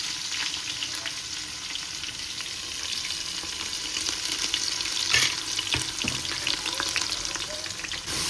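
Onion and tomato frying in a pan at a family anniversary celebration, giving a loud, dense, continuous sizzle with scraping stir strokes throughout and a brief louder burst midway.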